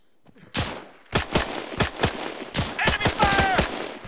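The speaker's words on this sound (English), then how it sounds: "Enemy fire!" Rapid gunfire from a World War II shooter video game sounds as a dense string of sharp, close shots, some in quick bursts and some single cracks, with brief whistling tones near the end.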